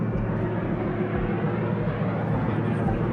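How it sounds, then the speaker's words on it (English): An airplane passes overhead outdoors as a steady, low broadband roar that holds level throughout, with faint talk mixed in beneath it. "Got a plane flying above me."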